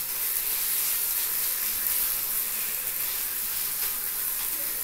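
A paste of mixed vegetables and cabbage fries in a pan, giving off a steady, close hiss and sizzle that holds evenly throughout with no talking.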